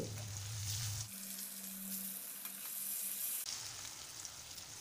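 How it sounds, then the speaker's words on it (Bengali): Steady, hissing sizzle of paneer cubes frying in hot oil, continuous throughout at a moderate level, with a low hum dropping out partway. "এই তেলে কেটে রাখা পনিরগুলো দিয়ে দিচ্ছি।"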